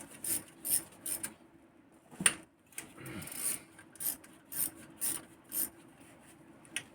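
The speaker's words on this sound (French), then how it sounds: "Je dévisse les vis qui font tout le tour" Oil pan screws are undone one after another by hand on a Peugeot 206cc 2.0 16-valve, heard as scattered short scraping and ratcheting clicks with quiet gaps between them, close and without talk.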